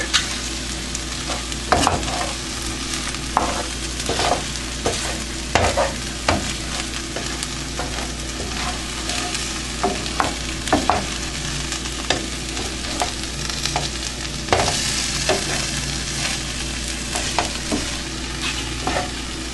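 Egg and tortilla pieces being mixed in a pan on a just-turned-off stove, a steady faint sizzle with regular scraping knocks of a utensil, close up and without voices throughout.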